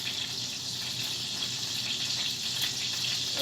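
Hot skillet sizzling steadily, ready for corn during home Sunday dinner cooking; a continuous close hiss of frying runs alone at a moderate level throughout.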